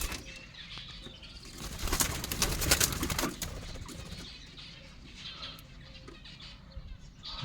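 Indian ringneck parakeets in a bird collection call and flutter, with a louder burst of wing flapping and squawks in the middle, then quieter chatter and rustling.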